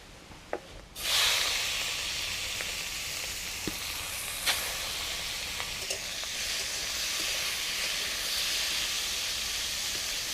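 Loud, steady sizzling of prawns frying in hot oil, starting with a burst and continuing with occasional pops and crackles.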